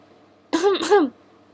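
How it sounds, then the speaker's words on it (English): A short throat clearing, two quick guttural rasps in a row, close by against a quiet background. "pretended to clear his throat while entering the room"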